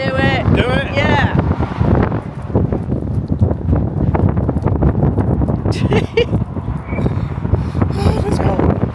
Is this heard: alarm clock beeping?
no